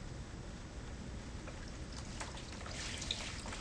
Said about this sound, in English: And gently rinse off my soap